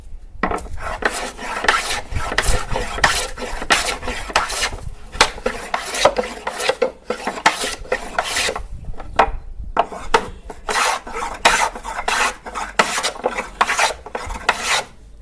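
A wooden hand plane strokes steadily along a wooden hammer handle to smooth it, with repeated close, rasping shaves in a regular rhythm and short pauses between runs.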